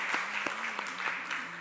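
Church congregation applauding during a Sunday worship service welcome, a steady dense patter of many hands clapping with a few sharper claps standing out, continuous throughout.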